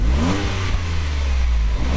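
A 2015 Ford Edge Sport with a turbocharged 2.7-liter EcoBoost V6 pulls hard under acceleration, giving a loud, steady engine drone with a rising tone, heard close and without voices.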